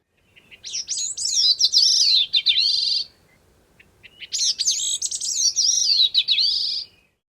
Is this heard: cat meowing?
no